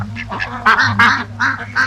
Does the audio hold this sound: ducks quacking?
yes